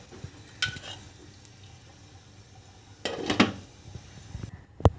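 Whole spices in hot oil in a kadhai give a faint, low sizzle, broken by a few clinks and scrapes of a utensil against the pot, including a louder cluster of knocks partway through.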